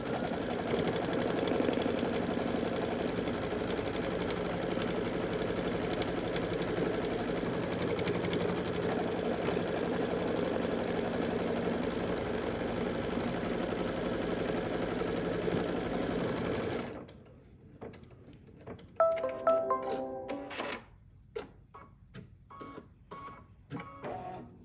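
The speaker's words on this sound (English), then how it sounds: "And then we will stitch this into place." A sewing machine stitches a Kimberbell lip balm holder in a steady, even whir that runs for a long stretch up close, then stops, followed by scattered small clicks and handling noises.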